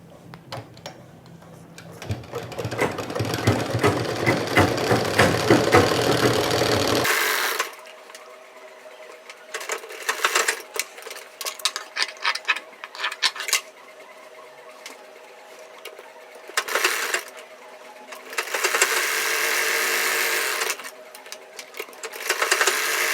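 A sewing machine runs in long, steady whirring bursts separated by brief pauses while stitching sharara pants, its motor hum and needle chatter close and clear.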